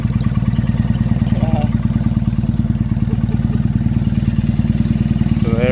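A motorbike engine idling close by, a loud steady low throb with rapid regular pulses, while a faint voice briefly sounds in the background.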